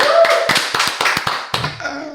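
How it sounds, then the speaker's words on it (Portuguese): Audience applause in a live talk-show studio, a run of sharp, rhythmic clapping bursts close by, loud and steady, fading into a softer tail near the end. "Salva de palmas."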